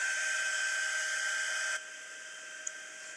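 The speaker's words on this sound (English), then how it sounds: "Heat tool just melts that embossing powder and makes it really shiny." A heat tool blows hot air to melt embossing powder on a craft card, a steady high-pitched electric whine and fan hiss that drops to a quieter hum partway through.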